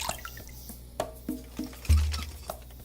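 Small drips and soft patters of water collected in a coconut in the video game Carto, a sparse sequence of light taps with one heavier splash near the end, over quiet background.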